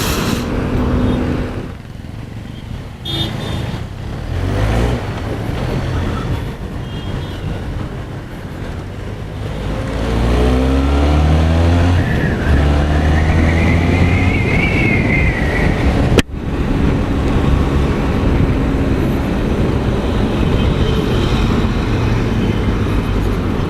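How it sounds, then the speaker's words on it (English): A Benelli TRK 502 motorcycle on a test ride sounds steady under heavy wind rush, its engine note rising and shifting pitch as it accelerates, loud and close throughout. "this is my test ride of the Benelli TRK 502"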